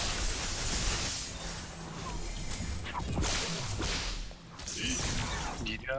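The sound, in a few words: whip strike sound from video game Paragon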